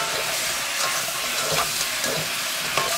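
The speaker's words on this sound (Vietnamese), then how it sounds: "Đảo liên tục và đều tay cho đến khi thịt nó áo đều hết nước sốt." Pork sizzles steadily in sauce in a hot pan while a utensil scrapes and stirs it in an even rhythm, close by.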